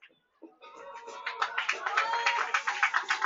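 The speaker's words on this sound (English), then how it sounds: "a big round of applause for the pitcher, Sean Toger, who just pitched that one whale of a game" Applause for the pitcher at a varsity high school baseball game between Rocky Mountain and Fort Collins, starting after a brief pause and swelling into steady, fairly close clapping from a small crowd.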